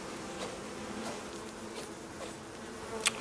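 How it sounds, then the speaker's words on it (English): Bees buzz near a beehive in the survival video game Icarus, a constant close droning hum with a few louder passes as insects fly by. "We got bees."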